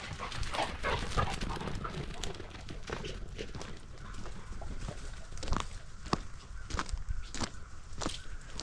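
Dogs move about outdoors, paws scuffling over ground, with a few sharp yips and barks scattered through; no talking.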